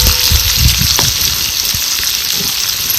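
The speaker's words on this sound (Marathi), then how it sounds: "आता ह्याच्यात टाकायचं आपल्याला थोडस जिरं जिरं चांगलं उमललेलं आहे ह्यात टाकायचं आपल्याला कांदा" Chopped onion hits hot oil with bloomed cumin seeds, a loud, continuous crackling sizzle with scattered pops and spatter, close to the pan, while rain falls outside.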